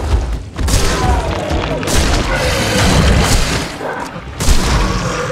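Gunfire in the video game The Sinking City, heavy booming shots and thuds in a loud, dense barrage that goes on without a break, with a few louder blasts standing out.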